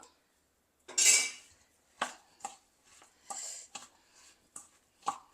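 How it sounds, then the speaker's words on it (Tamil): Palm jaggery syrup is worked into a traditional sweet ball mixture, heard as a series of sharp, close clinks and scrapes of a utensil against a vessel, spaced irregularly with quiet gaps between. "கருப்பட்டி பானியை விட்டு நல்லா மிக்ஸ் பண்ணுறேன்"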